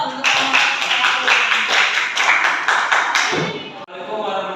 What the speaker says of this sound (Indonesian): Tepuk tangan dulu dong untuk kelompok.